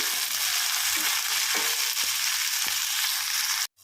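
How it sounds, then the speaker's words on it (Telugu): Fenugreek leaves fry in hot oil in a pan, giving a steady close sizzle with a few soft stirring clicks, then cutting off abruptly at the end. "మెంతి కూర కూడా మంచిగా నూనెలో మొత్తం వేగిపోవాలి."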